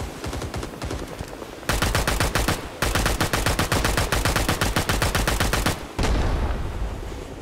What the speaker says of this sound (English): Ooh, heavy machine gun, though.